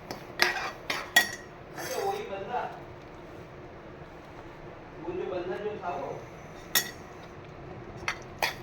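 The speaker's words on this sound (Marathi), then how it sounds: "आता मस्तपैकी असं आपण हा रवा भाजून घेऊया तुपावर छान." Semolina roasting in ghee in a pan for prasadacha sheera, a utensil scraping and clinking against the pan in short bursts, close, with someone talking over parts of it.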